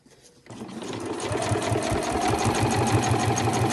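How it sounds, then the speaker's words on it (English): A sewing machine stitches a seam down a zipped cushion cover through all the fabric layers, starting after a brief quiet moment and then running steadily with a fast, even mechanical rhythm, close and alone. "And then you just want to continue sewing down to the end."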